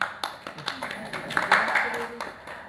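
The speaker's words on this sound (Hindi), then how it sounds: "हाँ भैया मैं ताली बजाओ इसके लिए" A small group claps at a devotional house program in Saharanpur, with several distinct claps and taps ringing out over a couple of seconds, uneven in rhythm, mixed with faint voices in the room.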